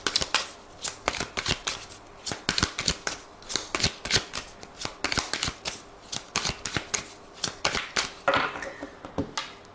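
Oracle cards are shuffled by hand in quick, crisp riffling bursts with short pauses, close and clear, with no talking.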